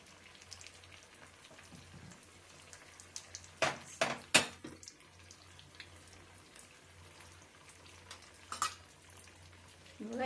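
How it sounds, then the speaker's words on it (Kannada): Chicken gold coin snacks frying in hot oil, a faint, quiet bubbling broken by a few sharp clatters and louder bursts midway and near the end. "ಒಳ್ಳೆ ಗೋಲ್ಡ್ ಕಲರ್ ಬರೋವರೆಗೂ ಫ್ರೈ ಮಾಡ್ಕೊಳ್ಳೋಣ"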